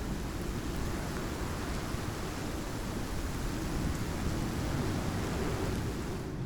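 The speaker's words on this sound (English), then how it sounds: "the worst of the storm should be over" A video game storm on a new planet roars as dense, steady rain with a deep thunder rumble underneath, loud and unbroken throughout.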